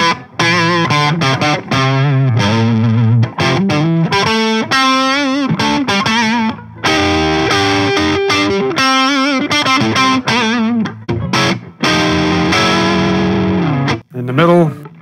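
A PRS SE245 electric guitar on its neck pickup plays a run of distorted, effect-laden notes and chords, loud and continuous with brief pauses, without talk.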